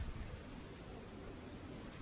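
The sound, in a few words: strong wind during Typhoon Uwan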